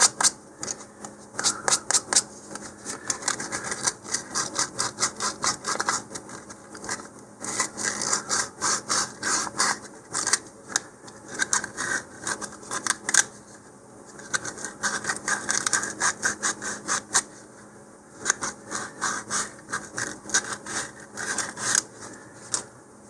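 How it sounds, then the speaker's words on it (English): Close, steady scratchy strokes of sandpaper rubbing the molded nubs off plastic Estes model rocket parts, repeating in quick rhythmic bursts with short pauses, no talking. "Again, we'll go ahead and sand off those outside nubs."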